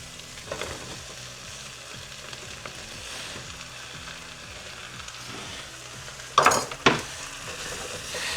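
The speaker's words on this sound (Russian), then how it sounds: "на этом этапе я добавляю сюда цукини." Zucchini goes into chicken with lemon cooking in an air-fryer grill, giving a steady soft sizzle under a stirring spoon that scrapes and taps, then two sharp clanks of utensil on pan near the end.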